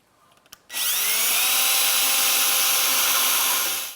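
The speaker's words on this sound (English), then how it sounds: "we're going to take a drill and a 5/16 drill bit" A power drill with a 5/16 bit spins up and grinds steadily into a metal bar with a loud, continuous whine that holds for about three seconds before cutting off.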